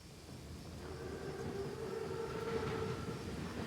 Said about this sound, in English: Train's right on time.